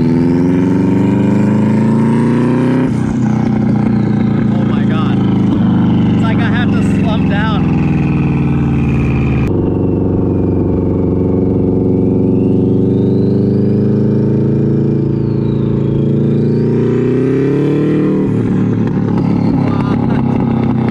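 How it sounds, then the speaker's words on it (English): A WRX-swapped Porsche Spyder's turbocharged engine revs hard and loud nearby, rising and falling in long sweeps with a steady droning tone, while voices talk over it. "It's like the turbo's right next to my head."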